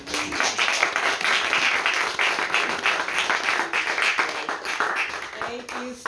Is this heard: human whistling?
no